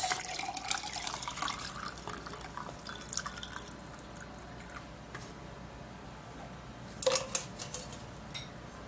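Moringa tea liquid poured through a kitchen strainer, with scattered drips and trickles, brief splashes near the start and a louder burst around the middle, otherwise quiet and close.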